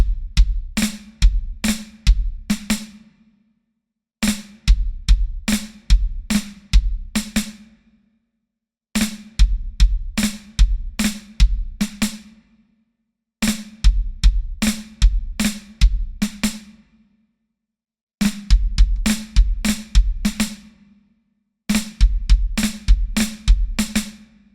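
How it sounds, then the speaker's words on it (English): Snare drum flams played with bass drum notes between them, a looping rhythmic phrase repeated six times with short pauses, close and loud, no talking. "our flam phrase now will be a flam on the 1, the 2 and, the 3 and. We then have a bass drum in between these notes"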